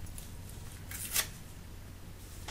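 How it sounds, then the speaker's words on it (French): Scissors cut newspaper into pieces with soft, crisp paper snips and rustling, closing in one brief louder slice near the middle, all quiet and close. "D'abord, je vais couper le journal en morceaux"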